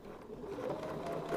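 A sewing machine stitches a feather motif on a quilt, guided along a template, giving a faint, steady mechanical whir that runs unbroken throughout.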